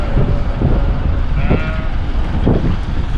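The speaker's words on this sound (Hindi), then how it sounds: "इधर आप लोग देख सकते हैं माशाल्लाह ये बड़े प्यारे बकरे हैं" Goats imported from Canada, bleating at a livestock market in Madinah. Several loud, close bleats come at irregular moments over a constant crowded background hum.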